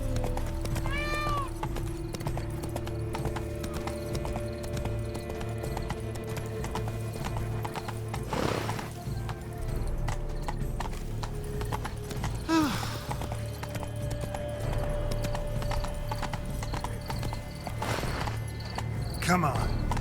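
Horse hooves clip-clopping in a steady galloping rhythm in the video game The Witcher 3: Blood and Wine, with occasional whinnies and a voice speaking over the hoofbeats.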